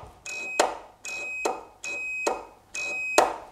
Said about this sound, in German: So, es piepst schön.